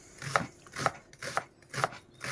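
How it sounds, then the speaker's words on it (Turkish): Steady knife chopping of onions on a board, about two strokes per second, close and fairly quiet with no talking. "Ben şimdi soğanlarımı doğrayayım."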